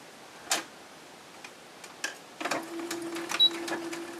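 A sewing machine stitching a cloth pad with a PUL backing: scattered clicks and taps at first, then a short run of quick, close mechanical stitching with a thin steady whine.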